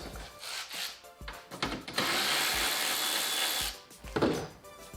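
A power tool runs while undoing radiator brackets on a Toyota Crown JZS171. Faint clicks and handling noises lead into one steady whirring burst of under two seconds, followed by a few more quiet knocks.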